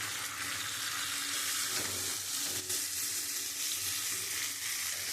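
Mutton frying and being sautéed in a pan with tomato for a lightly spiced curry, a steady dense sizzle with occasional scraping stirs, close and continuous, no voices.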